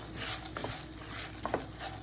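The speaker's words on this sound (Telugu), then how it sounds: "పప్పు దినుసులు వేయించేస్తాను." Lentils and dals roasting dry in a pan for moringa leaf podi, a steady soft frying hiss with a couple of light scraping stirs, close and fairly quiet, no voices.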